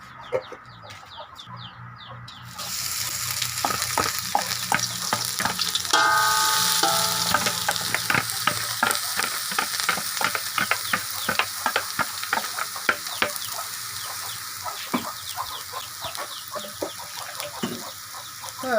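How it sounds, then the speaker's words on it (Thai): Dried curry chilies crackle and sizzle as they roast in hot oil in a pan for a northern Thai eel curry, with steady frying hiss and scraping stir strokes throughout, loud and close. "เอาพริกลงไปคั่วได้เลยครับ"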